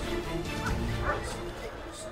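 A dog yips and barks in short bursts while chasing a young man on a bicycle, mixed with outdoor noise and a person talking.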